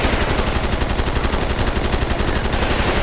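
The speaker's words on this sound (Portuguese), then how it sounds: "Tamo na troca de tiro aqui." Rapid gunfire exchange in a role-play video game: loud, continuous automatic bursts crackle back and forth for the whole stretch, with no voices over them.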